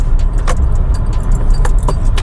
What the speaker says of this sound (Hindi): चलिए फिर गाड़ी को मैं लगाता हूँ बाहर